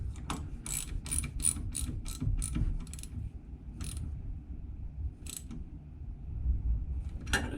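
A ratchet spanner clicks in quick bursts as it works a fastener on a Peugeot 205 GTi Mi16 in a garage. The dry, close ratcheting comes in several runs with short pauses between them, and no one talks.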